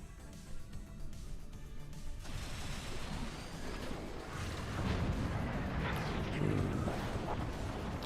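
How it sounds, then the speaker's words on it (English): Howitzer shell striking a foundation in the strategy game Forts, a sustained roaring blast of heavy impact and rumbling debris that swells louder toward the end, with no voices over it. "One howitzer straight to the foundation, and Team 1 loses a player once again."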